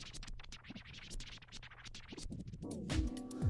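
A Traktor Vinyl Mark 2 control record is scratched on a turntable, giving quick rubbing scratches that run fast and slow, then a few pitched swooshes near the end; no voices.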